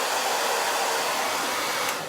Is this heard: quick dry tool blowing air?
yes